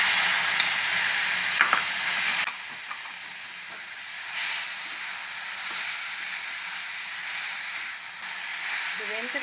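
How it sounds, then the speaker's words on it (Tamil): Tomato and onion fry in a pan for a Tamil plantain stir-fry, a steady sizzle and hiss with occasional scraping stirs, while someone speaks over the cooking. "தக்காளியும் போட்டுக்கலாம்."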